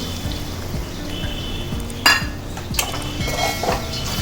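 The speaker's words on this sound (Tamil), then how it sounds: "இப்போ இந்த புளி கரைச்சனையும் ஊற்றிடுவோம்" Tamarind water poured into a pan of canned fish curry, a soft liquid splash with a few close metallic clinks of utensils against the pan over a steady background hum.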